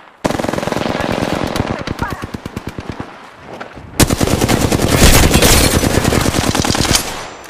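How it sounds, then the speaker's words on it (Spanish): Rapid automatic gunfire from the video game Apex Legends, loud and close, with bursts of sharp repeated shots, a brief pause, then a denser, heavier volley of fire continuing to the end. "Estoy recibiendo disparos."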